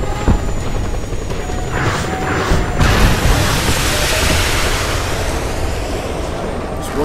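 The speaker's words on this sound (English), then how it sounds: "There's one more armed helicopter." Armed helicopter in the Just Cause 2 video game, a steady rotor roar with broad wind-like noise and a loud whoosh or blast partway through, continuous and close throughout.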